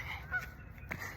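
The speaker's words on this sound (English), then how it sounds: "the goose literally barking at me while I'm in pain" A goose honks a few times, short faint calls from some distance over a low background rumble.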